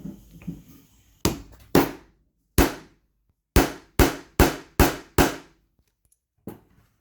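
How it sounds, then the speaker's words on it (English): Sharp, loud hammer blows striking small rivets to flange them, about eight separate strikes in an uneven rhythm with quiet gaps between, close up and with no talking. "use a serious hammer because you need it to flange that thing"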